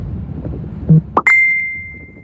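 A mobile phone goes off with a single bright, clear chime that rings out and holds as a steady tone. It is loud and close, follows a soft knock, and no one speaks.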